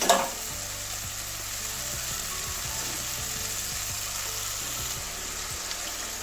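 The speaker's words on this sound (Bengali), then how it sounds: "একটু ভালো করে আলুটা কষিয়ে নেবো দু তিন মিনিট" Potatoes sautéing in a pan for a Bengali cauliflower curry, giving a steady, close sizzle of frying oil with faint scraping from stirring throughout.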